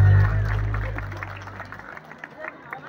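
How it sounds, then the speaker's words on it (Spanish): Audience applause at a Santa Ana eve festival in Yenshu, La Mesa, a brief burst of clapping and crowd noise that fades after a loud start, with chatter and voices mixed in. "por acá se escuche el aplauso bonito"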